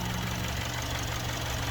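The 2.4-liter turbocharged boxer engine of a 2023 Subaru Outback Wilderness idles with a steady, low, fairly quiet hum throughout a brief moment.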